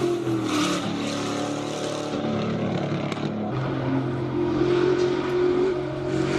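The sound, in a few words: BMW Z4 with LS V8 engine, rear-wheel drive race car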